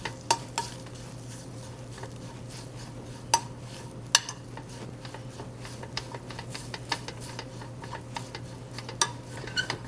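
Red curry paste sizzles and is stirred in a hot pan in a farmhouse kitchen, giving a steady low fry with sharp utensil taps and scrapes at intervals.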